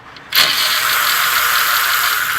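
An electric ratchet whirs up abruptly and spins a 13 mm caliper bolt on a Volkswagen rear brake, a loud close mechanical buzz that holds steady until the end.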